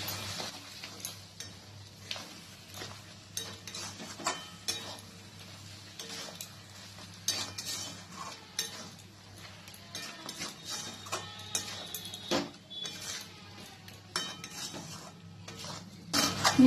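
A spoon scrapes and clinks against a pot while spice powder is mixed into mutton, giving repeated irregular metallic taps and scrapes at close range over a low steady hum, with no talk.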